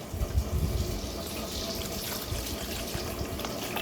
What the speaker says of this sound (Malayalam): അപ്പം നമുക്ക് ആദ്യം കുറച്ച് വെള്ളം ഒഴിച്ചെടുക്കാം